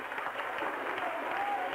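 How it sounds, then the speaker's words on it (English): Baseball fans at an NBC World Series game clapping in the stands, a steady, fairly distant patter of applause that holds through the whole moment. "Now the Lark fans starting to clap, as you can hear down below"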